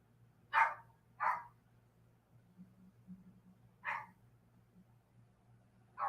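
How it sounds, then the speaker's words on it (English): A dog barks in short, sharp bursts, two quick barks then a pause and more, fairly close over a low steady hum. "Not quite sure what she's barking at."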